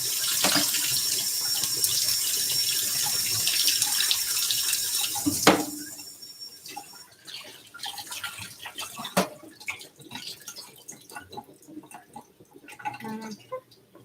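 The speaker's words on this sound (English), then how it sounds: "No, my rice spoon. We'll wash that up real quick." A kitchen tap runs steadily while a rice spoon is rinsed beneath it, the water stream loud and constant for about five seconds before shutting off, followed by quieter drips, clinks and handling sounds.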